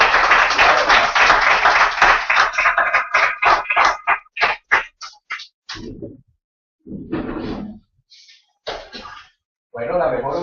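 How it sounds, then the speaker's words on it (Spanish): Congregation applauding in a church service: about two seconds of dense clapping that thins into separate claps, then speech and scattered short sounds follow. "Démosle un aplauso al Señor."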